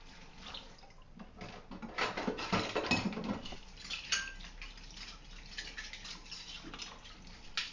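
Dishes clinking and rattling under running water, close by, with irregular clatter of glasses and plates being rinsed.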